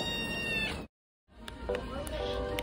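A small kitten meows indoors in a new adoptive home, with short high mewing cries before and after a brief silent gap, mixed with people talking nearby.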